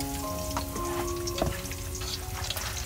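Garlic frying in oil in a pot for a braised rice-field rat dish: a steady, dense sizzle and crackle, close and continuous, with faint stirring and no talking.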